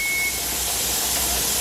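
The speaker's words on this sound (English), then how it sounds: "my timer has gone off" A kitchen timer goes off during pressure canning of whole milk, giving a short, sharp electronic beep at the start over a steady loud hiss that carries on afterward.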